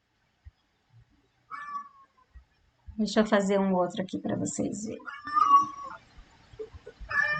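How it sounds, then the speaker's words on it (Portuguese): House cat meowing insistently to be let out through a door, a few loud cries mixed in with someone talking close by. "meu gato está desesperado aqui para sair"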